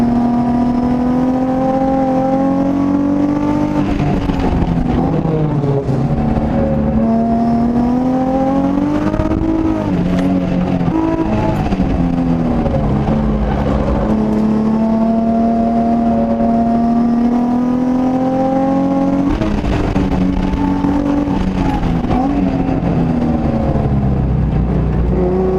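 A Nissan Z laps a race track, its engine note rising and falling steadily through gears and corners, loud and continuous with no talk.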